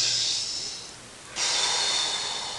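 A slow, deep breath drawn in through the nose, then a pause and a second strong noisy inhalation, close and fairly loud with no talking.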